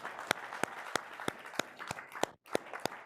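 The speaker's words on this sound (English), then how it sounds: "I'll clap for that." One person clapping at a live online broadcast event: about ten sharp, evenly spaced claps at a quick steady rhythm, close and clear, with a brief pause just before the last few.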